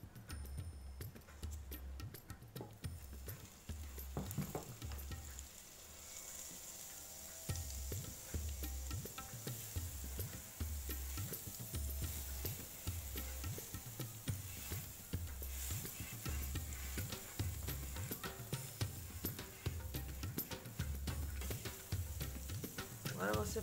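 Butter sizzles on a preheated electric grill, a steady, faint crackling hiss with small ticking pops that runs continuously without a break and no voices.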